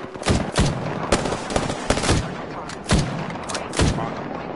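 Gunshots in Apex Legends, a handful of sharp loud shots in uneven succession, each with a short crack and tail, over steady game background.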